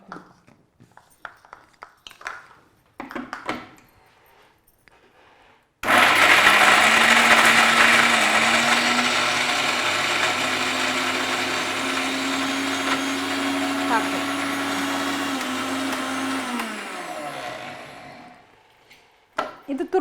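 A kitchen mixer grinder whirs loudly as it grinds green chillies with coconut, starting abruptly after some quiet talk and running steadily for about twelve seconds before spinning down, its motor pitch shifting slightly partway through.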